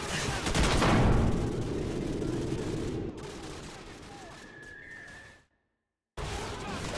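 Gunship cannon fire in the Call of Duty Modern Warfare video game, a dense rumbling barrage of heavy blasts that thins out, drops to brief silence, then resumes, with a voice speaking over it.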